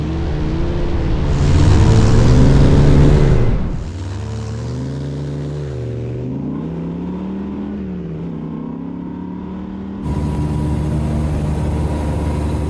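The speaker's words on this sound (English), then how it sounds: "There is only one way to wrap up an off-road day with a Viper, and that is with a drag race between off-road vehicles." Engines of an off-road Dodge Viper and a Ford Raptor roar through a drag race, loud and near, with a harsh surge, then a steady rising drone through gear changes and a fresh burst of power near the end.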